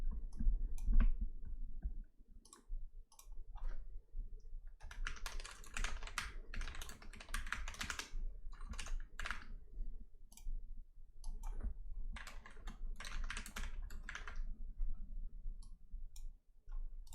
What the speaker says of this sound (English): Has that keyboard always been behind me?